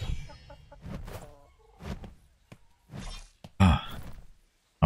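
A chicken in the video game Atlas clucks in short bursts, several distinct close squawks spaced irregularly with quiet gaps between, ending in a sharper louder cluck.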